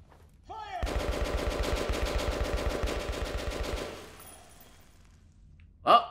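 Soldiers' rapid automatic gunfire in Metro Last Light Redux, a sustained burst of evenly spaced shots for about three seconds that then fades, followed by a single sharp impact, with no voices.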